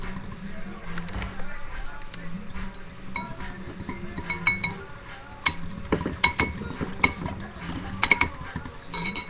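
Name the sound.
whisking French toast egg mixture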